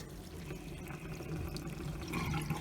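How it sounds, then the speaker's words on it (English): Liquid that looks like red cabbage is poured into a blender, a soft continuous splashing trickle at low volume, close by, with no voices. "then I'm gonna pour it into the blender"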